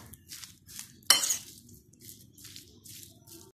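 Mashed potato being stirred with black pepper, chicken powder, salt and mixed herbs in a bowl, a series of soft scraping and clinking utensil strokes with one louder sharp clink, close and quiet with no talk.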